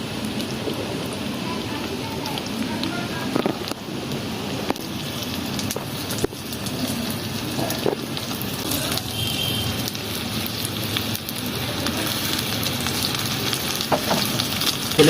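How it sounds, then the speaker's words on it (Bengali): Whole spices frying in hot oil in a clay pot make a continuous crackling sizzle with scattered pops and stirring scrapes, steady and close throughout. "তেলটা গরম হয়েছে, আমি গোটা গোটা ছাড়ছি।"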